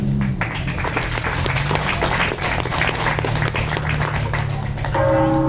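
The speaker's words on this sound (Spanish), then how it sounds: "Démosle un fuerte aplauso" A crowd at a forum applauds steadily for several seconds, a dense wash of clapping that fades toward the end.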